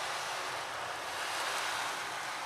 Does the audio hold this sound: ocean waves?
yes